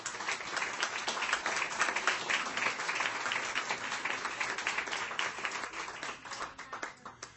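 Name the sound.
audience round of applause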